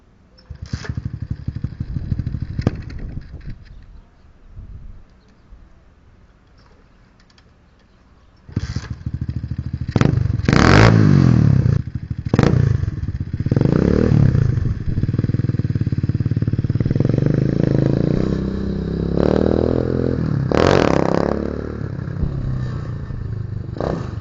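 An SSR125 motorcycle engine idles unevenly, then revs repeatedly in sharp bursts and settles into steady running during a test ride after fixes, loud and close with mechanical clatter and no speech.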